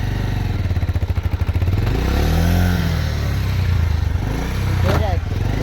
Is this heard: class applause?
no